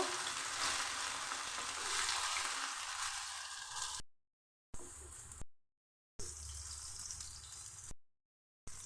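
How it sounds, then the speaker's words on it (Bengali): Continuous sizzling of eggplant pieces, coated in salt and turmeric, frying in oil, close and fairly loud, interrupted by several abrupt silent gaps. "এবার তখন বেগুন এভাবে ভেজে নেব"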